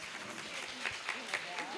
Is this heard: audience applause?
yes